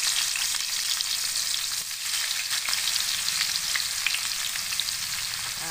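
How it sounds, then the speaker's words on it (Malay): Onions frying in hot oil for a crisp finish, a steady dense sizzle that holds close and loud throughout with no talking. "Goreng bawang."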